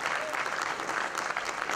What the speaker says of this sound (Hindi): आप लोग जोरदार तालियों से